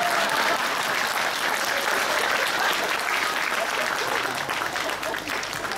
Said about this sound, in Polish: No, ale brawa, jak gdyby się należą